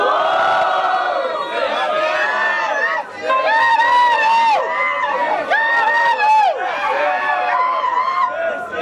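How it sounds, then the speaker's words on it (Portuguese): A crowd at a Brazilian rap battle final in São Gonçalo roars with loud shouting, whooping and cheering in rising waves, dense and close throughout, with chanting voices rising above the noise. "mão pra cima e barulho, MC Fael"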